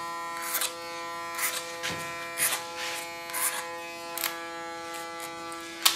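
A small electric hair clipper buzzes steadily and close up through a very short haircut, with brief scratchy swells as the blades pass through the hair at an irregular rhythm.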